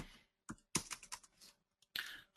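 Quiet bursts of typing on a computer keyboard, a few clustered clicks and taps separated by short silences, close and soft.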